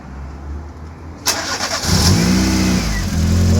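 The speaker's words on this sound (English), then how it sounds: "We're gonna do the first start after adjusting the timing." A VW Golf Mk1 engine cranks and fires after a timing adjustment, catching abruptly and settling into a loud, close, rough idle that rises slightly in the final moments.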